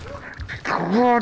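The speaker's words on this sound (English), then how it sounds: "dog." A dog barking and whimpering in the video game The Last Guardian, a short yelp rising into a high whine, close and loud over game background sound.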